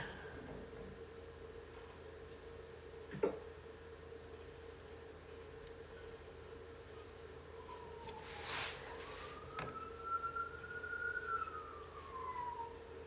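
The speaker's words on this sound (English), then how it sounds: "that was the ambulance passing by my house." A faint, distant siren wails and rises in pitch against a quiet background hum, as an emergency vehicle passes at a distance.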